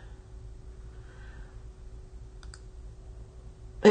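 A computer mouse clicks while someone works in a Cricut Design Space project: one faint, crisp click midway through near-silence, then a sharper, louder click right at the end, both over a low steady hum.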